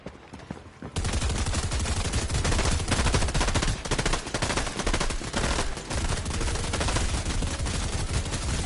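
Sustained rapid gunfire from a gun in Fortnite, loud and close, firing almost continuously for several seconds after a brief quiet start.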